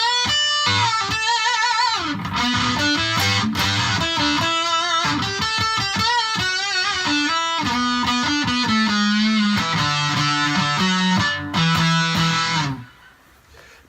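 Electric guitar played through an octave fuzz pedal, thick distorted sustained notes with a sliding, shifting melodic line, loud and continuous before cutting off near the end.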